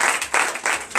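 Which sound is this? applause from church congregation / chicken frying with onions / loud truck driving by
applause from church congregation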